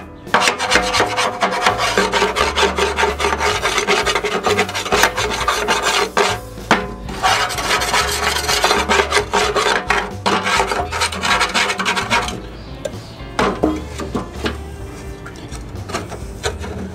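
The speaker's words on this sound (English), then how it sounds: "take like a gardener's shovel and just scrape this stuff up" A gardener's shovel scrapes debris out of a BBQ grill being readied for summer, a continuous loud rasping and rubbing of metal over grit that runs for most of the time with short pauses between strokes.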